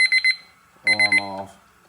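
Two bursts of rapid electronic alarm beeps from a cooking timer, four quick tones each, loud and close, with a brief clatter at the end of the second burst.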